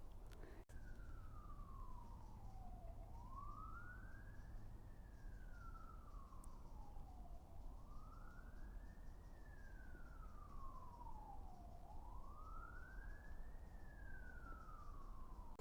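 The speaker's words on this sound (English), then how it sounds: "I think we're going to have to wait for this police car to go." A passing police car's siren wails in slow rising and falling sweeps, steady and fairly distant, over a low rumble of traffic.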